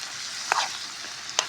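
Steady sizzling of gucchi mushrooms frying in a pan outdoors in a garden, a continuous crackling hiss with a couple of brief stirring clatters.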